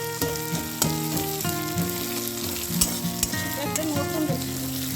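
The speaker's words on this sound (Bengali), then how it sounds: "এখানে পেঁয়াজ কুচিটার মধ্যেই টমেটো কুচি দিয়ে দেওয়া হলো।" Chopped onion and tomato fry in a pan with a steady close sizzle, joined by scraping stirs and occasional clinks, while music plays underneath.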